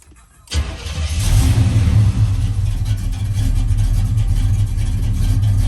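Chevrolet Monte Carlo SS engine starting via an aftermarket push-start button: a quiet moment, then the engine catches loudly and settles into a steady, close, rumbling idle.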